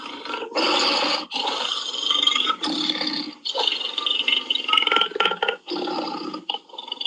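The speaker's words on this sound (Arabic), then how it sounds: "والله اسد يتكرع مو يزقر" A lion gives a long series of loud, close, guttural burp-like roars, rough and rumbling, arriving in several drawn-out bursts with short gaps between them and no talking.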